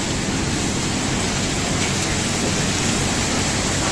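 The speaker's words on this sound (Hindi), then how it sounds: "बहुत तेज बारिश है।" Dense, steady rush of heavy rain, loud and unbroken, like a downpour pouring nearby.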